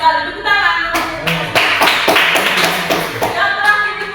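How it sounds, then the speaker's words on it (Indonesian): Classroom of students applauding together, a dense burst of hand claps lasting several seconds with short spoken bits at the start and end. "Oke, benar sekali. Tepuk tangan."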